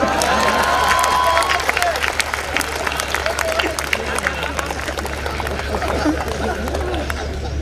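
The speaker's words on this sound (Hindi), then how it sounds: "और अब आपकी तालियां उठेंगी" A large mushaira poetry-recital audience claps steadily in a dense, continuous patter, with crowd noise mixed in throughout.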